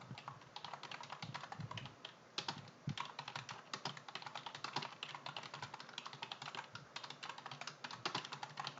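Fingers type steadily on a computer keyboard while entering data into an Excel spreadsheet, with a quiet, continuous patter of key clicks and occasional heavier strokes, close up and with no voices.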